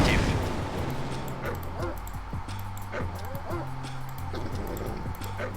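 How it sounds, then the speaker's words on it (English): Attack dogs in the Red Alert video game, with repeated barks and yelps mixed into steady battle noise and gunfire, the dog sounds recurring throughout at moderate loudness. "We'll send a couple of dogs over here."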